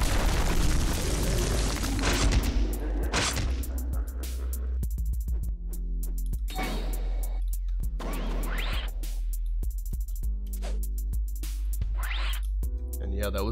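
In Shinobi Life 2, a tailed beast bomb goes off as a deep, booming blast with a low rumble. Several sharp bursts and crackles follow through the clip, and someone talks over parts of it.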